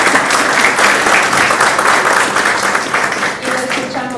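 Dense, sustained applause from an audience at a scientific writing workshop in a Spanish-speaking setting, loud and close, thinning slightly toward the end as a voice begins to speak.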